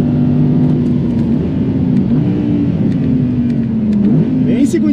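A 600 hp Audi RS 6 wagon roars under hard acceleration, its engine note holding a loud, steady drone and then climbing near the end, heard up close from inside the car with no talking.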